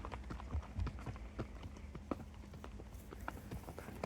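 Horse hooves clip-clop on a trail ride, irregular thuds and knocks from several animals moving over the ground at close range, fairly quiet throughout.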